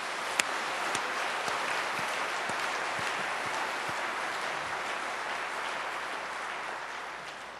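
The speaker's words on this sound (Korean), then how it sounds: "하나님께 영광의 박수를 돌립시다" A congregation applauds together at a New Year worship service in a Korean church, producing dense, steady clapping that holds at an even level for several seconds before easing slightly at the end.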